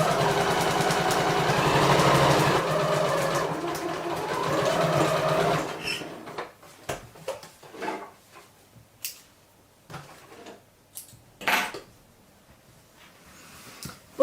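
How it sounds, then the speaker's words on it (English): Sewing machine stitching along the short edge of a fabric face mask, running in a steady loud whir for several seconds, then stopping and followed by scattered handling clicks and fabric rustles. "now going to take that to the sewing machine and stitch along this short edge"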